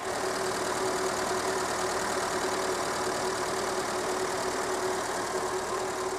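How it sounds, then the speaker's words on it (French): A 1971 Renault 4L engine idling steadily, a continuous loud mid-pitched rumble with an even mechanical patter throughout, close up and with no talk. "Après là il tourne très bien, après il y a juste quelques trous pendant les accélérations"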